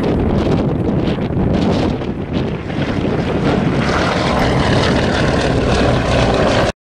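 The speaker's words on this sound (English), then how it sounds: "And now, from your right, the B-17G model Texas Raiders." A Boeing B-17G bomber at a Texas air show passes with a continuous broad engine and propeller drone, heavily mixed with wind buffeting on the microphone, holding steady before cutting off abruptly.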